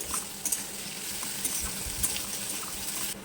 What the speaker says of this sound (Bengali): পেঁয়াজ আর মরিচটাকে একটু ভেজে নিব